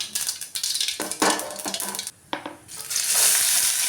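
Green turkey berries and chopped shallots frying in a pan: a bright crackling sizzle with clinking utensil strokes and a brief lull before the hiss swells loudly again, close up, no voices.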